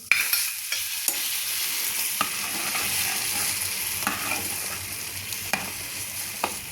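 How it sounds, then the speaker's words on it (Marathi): Hot tempering poured into a pot of mutton dalcha, with a soft sizzle and the scrape and clink of a spoon stirring through it, quiet and close, with sharp utensil taps scattered throughout. "हा तडका आपल्याला दालच्यामध्ये घालायचा आहे"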